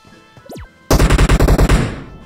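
An automatic weapon fires at a bot in the mobile game PUBG Mobile: a loud rapid burst of about ten evenly spaced shots with a short tail, preceded by a brief rising and falling electronic tone.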